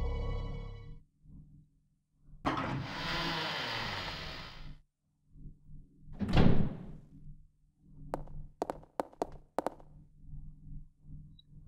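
A locked door being tried in Resident Evil 0 HD: a short rattle and thunk of the handle, then a louder muffled clunk and a quick series of sharp clicks, set against quiet ambient game sound with no talking.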